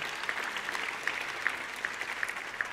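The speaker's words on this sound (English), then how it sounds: "Let's give the staff a round of applause for all the work that they did this evening." An audience at an evening event applauds the staff, with steady, fairly faint clapping from a crowd sustained throughout and a few sharper claps standing out.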